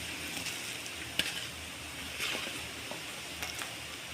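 Onion and tomato pieces frying in oil in a home kitchen, a soft, quiet hiss of sizzling with a few faint stirring clicks.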